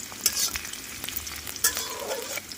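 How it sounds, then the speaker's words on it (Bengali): Onions frying in a pan for aloo gobi, a soft steady sizzle with a few sharp stirring scrapes and clicks, close and moderate in volume. "এগুলো লাল লাল করে ভাজবো পেঁয়াজগুলো"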